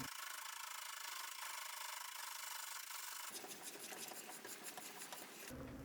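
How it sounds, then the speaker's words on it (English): A slitting saw cuts a slot in a small metal ring for a mini lathe tailstock clamp, a faint, steady high-pitched grinding whine that shifts to a rougher rasping buzz partway through, quiet and without speech. "using a slitting saw, I can cut a slot which will allow the ring to clamp tightly onto the tailstock"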